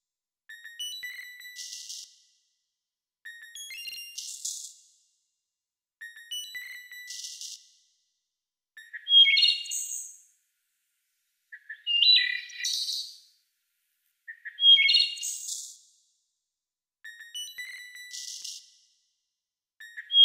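Field-recorded bird calls turned into MIDI notes and played as synthesized tones: eight short chirping phrases evenly spaced with gaps, bright and clear, some higher and louder than others, with no talking.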